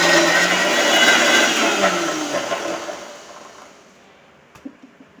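A mixer grinder whirs loudly while grinding cooked chana dal into puran. The motor runs steadily, then winds down and stops, leaving a few faint clatters.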